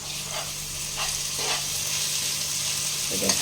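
Ginger, chili and garlic spice paste frying in a pan, a steady soft sizzle with faint stirring scrapes, close and continuous with no voices.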